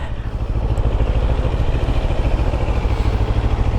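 A CFMOTO CLX700 Heritage 700cc motorcycle idles steadily up close, its engine producing a loud, even low-pitched rumble with a fast regular pulse and faint mechanical clatter, with no voices over it.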